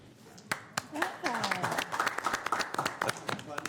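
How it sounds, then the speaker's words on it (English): Applause at a Board of Supervisors meeting for a supervisor, a scattered round of clapping from a small room, with people talking and laughing over it. "I want to give a round of applause to Supervisor Hume"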